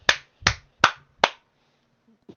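Four sharp hand claps land in an even, moderately quick rhythm, close and fairly loud. A faint soft tap follows after a pause, and no one speaks.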